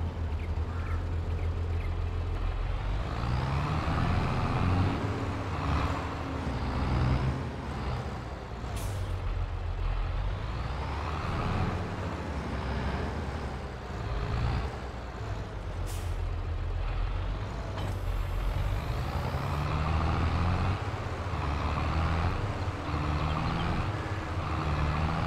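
A tractor in Farming Simulator 22 drives along with a steady, loud engine drone that stays constant throughout, edged with faint hissing and no voices.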